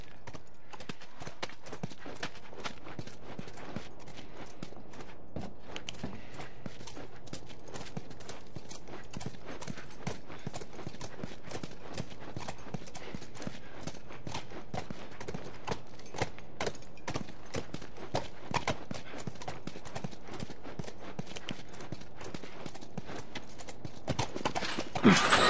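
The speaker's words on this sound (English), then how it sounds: "Stay with the horse." Horse hooves clip-clop at a steady walking pace in The Last of Us, with a continuous close rhythm of hoof falls that grows slightly louder and more cluttered toward the end.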